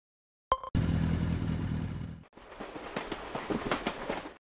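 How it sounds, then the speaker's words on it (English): A motorbike engine in a children's transport learning game starts with a short tone, then roars loudly and steadily before dropping away and returning as a rougher, sputtering rev. "Motorbike."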